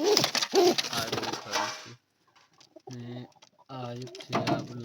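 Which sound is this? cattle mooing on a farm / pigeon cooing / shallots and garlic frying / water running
pigeon cooing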